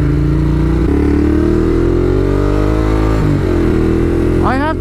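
A motorcycle engine drones loudly up close while riding, its pitch rising and dipping through shifts before a sharp rev climbs at the end.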